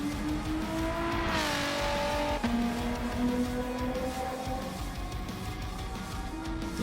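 Renault Clio V6 24V 2000 racing engine in a video game, a steady high-pitched wail with shifting whine and a sliding, scrubbing tire squeal, continuous and fairly loud with no talk.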